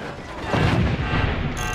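Cannon fire in a video game: a loud, dense booming blast with heavy low rumble and crackle, sustained across the short moment with no voices.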